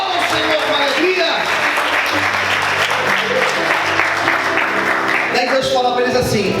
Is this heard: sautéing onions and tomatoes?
no